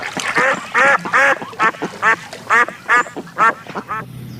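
A duck sound effect gives a quick series of about ten loud, evenly spaced nasal quacks, close and alone with no other sounds.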